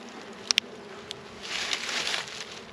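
Honey bees buzz over open hive frames during a colony inspection, a soft steady hum rising in the second half of the clip after a couple of sharp clicks.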